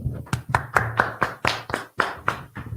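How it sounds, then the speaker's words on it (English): A small group clapping hands at a religious class, a dozen or so sharp, close claps in a loose, uneven rhythm with low voices murmuring underneath. "let's clap it up"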